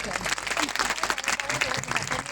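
Audience clapping at a gathering, a sustained burst of applause filling the room, with a speaker's voice over it.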